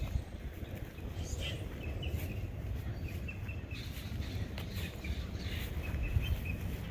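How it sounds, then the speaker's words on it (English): Birds chirp faintly and intermittently in a cemetery on a cool spring day, small distant tweets scattered over a steady outdoor ambient hiss. "Birds are going nuts here today."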